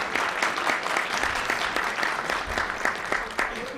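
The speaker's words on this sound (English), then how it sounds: "And applause is actually welcome for that." Warm applause rolls through a press club luncheon room, a crowd clapping steadily for several seconds with no speech over it.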